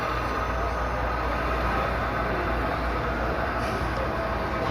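Model train locomotives fitted with Soundtraxx sound decoders run at a train show, giving a steady, dense rumbling diesel drone with rail-like clatter that holds constant and fairly loud throughout, with no voices.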